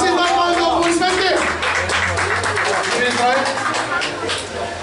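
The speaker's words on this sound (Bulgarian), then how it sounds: "22 паунда, аплодисменти!" An audience applauds at a lively Bulgarian stage show, with a dense clatter of clapping that runs throughout under loud, overlapping talk and gradually eases toward the end.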